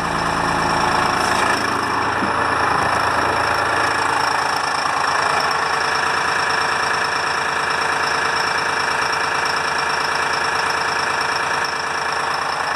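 A Detroit 6V53 diesel in a 1976 International fire truck idles steadily and loudly close by, a continuous rough, knocking rumble with no talk over it.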